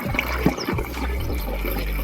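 Water pours into a pesticide sprayer pump tank out in a farm field, a steady, close rushing and gurgling fill that runs unbroken from start to end.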